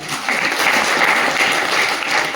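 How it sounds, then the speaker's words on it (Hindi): An audience at an RCM celebration seminar breaks into loud, dense applause, a steady wash of many hands clapping that holds at full strength with no voices over it. "एक बार जोरदार ताली तो होनी चाहिए"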